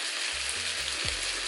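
Chicken fried rice with frozen peas sizzles loudly and constantly in a hot pan, a dense crackling fry with stirring, while low tones hum underneath.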